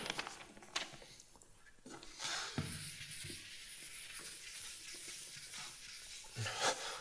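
Board eraser rubbing across a lecture-hall board, faint scratchy swishing strokes coming in irregular bursts against a quiet room background.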